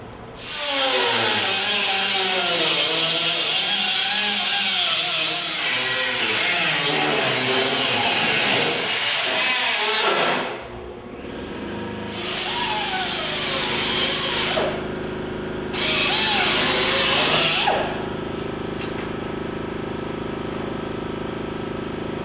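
A power tool cuts through the sheet-metal body of a custom Wade coupe, running loud and close in long continuous bursts with short pauses between passes and a faint hum lingering at the end.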